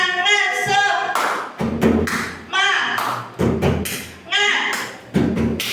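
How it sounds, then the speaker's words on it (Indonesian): Students in a classroom perform the 'tepuk semangat' rhythmic clap chant, bursts of sharp group claps alternating with chanted voices in a repeating pattern, fairly close and loud. "kita tepuk semangat dulu"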